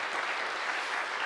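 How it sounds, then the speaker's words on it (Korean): A church congregation at a Sunday worship service claps in praise, a brief, steady, even roar of many hands filling the hall. "하나님께 영광의 박수를 올립시다."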